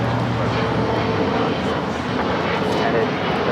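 Alaska Airlines jet taking off from LAX runway 25 right, a steady broad engine roar holding loud and even throughout, with a voice faintly present underneath.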